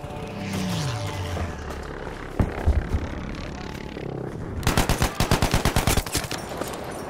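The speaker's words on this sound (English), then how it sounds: "Urgent request for an airstrike." Gunfire and aircraft in a Battlefield 5 battle: a droning engine and scattered shots build to a rapid, loud burst of machine-gun fire, with a voice talking over the start.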